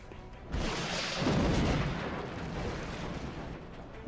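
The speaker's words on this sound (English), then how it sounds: "Rockets away." Rockets fire and explode in the video game XCOM Long War, heard as a loud rumbling blast that swells in after a moment and rolls on as a deep, sustained roar.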